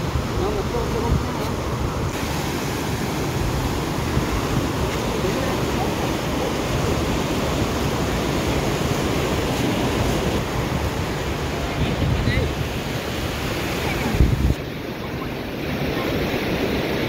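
Sea waves wash continuously onto a beach at a birthday gathering, a dense steady roar mixed with wind buffeting the microphone, with people talking faintly underneath.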